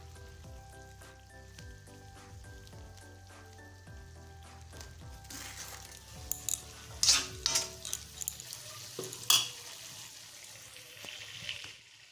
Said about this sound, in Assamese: এয়া মছলাটো পুৰা একদম ভাজ খাই গ'ল